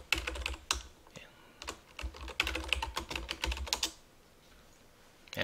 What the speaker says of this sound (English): I'm going to also type IP config slash all.